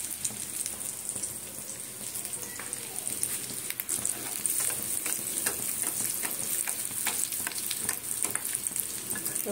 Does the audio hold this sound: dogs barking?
no